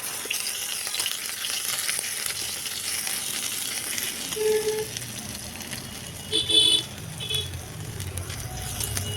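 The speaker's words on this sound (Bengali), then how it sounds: "এটাকেও নেড়ে চেড়ে ভেজে নেব" Crushed ginger and garlic sizzling steadily in hot oil while being stirred, a continuous close frying hiss with occasional scraping and clinking sounds from the utensil.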